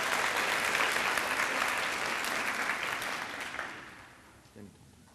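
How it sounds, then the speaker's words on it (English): An audience at a 4-H public speaking event applauds fifth grade speakers with sustained, full clapping that fades out near the end, followed by a brief sound in the quiet. "Let's give our fifth graders a big round of applause."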